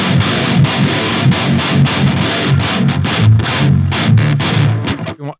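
Electric guitar through the Toneforge Disruptor amp plugin, a heavily distorted, chugging riff with tight palm-muted bursts and short gaps, loud and dense, ending with a few choppy hits and a sudden stop.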